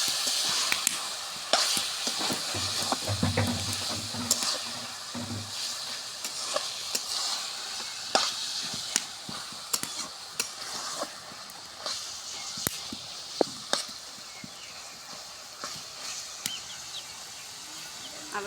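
Watermelon rind frying in oil in a covered pan, an even crackling sizzle dotted with sharp pops and spits throughout, close and steady, with a low rumble partway through.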